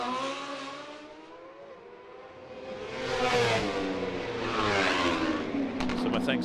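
Racing motorcycles, including BMW M1000s, lap the street circuit at the Macau Motorcycle Grand Prix warm-up. Engine drone rises and falls as bikes pass, with a louder surge midway and a commentator's voice running over the noise.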